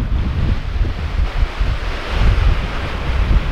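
Strong wind buffets the microphone on Weston Shore beach during flounder fishing, making a loud, continuous low rumble with surf-like hiss and no voices.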